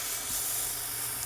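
Spray paint hissing from a can or airbrush onto a Bandai B-Wing model kit, a steady, close, unbroken hiss from start to finish.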